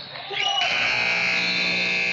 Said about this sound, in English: Isaac Graydon chased it down, put one up, scored it, but after the buzzer, and that is the end of one